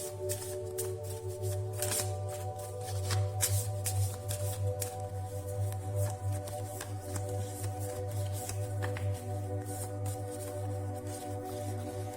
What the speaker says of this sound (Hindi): अभी हैंडमेड कार्ड से देखते हैं क्या आता है सजिटेरियस के लिए